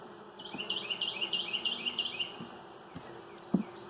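Honeybees buzzing around an open beehive during a hive inspection, a close, fluttering hum that swells in a run of pulses and then fades, followed by a few soft knocks.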